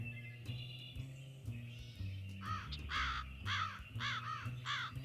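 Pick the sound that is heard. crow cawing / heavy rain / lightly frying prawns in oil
crow cawing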